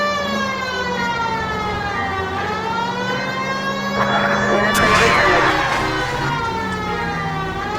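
A police car siren from the video game LA Noire wails in a steady, rising-and-falling tone, loud and close, with engine rumble beneath and a voice briefly heard.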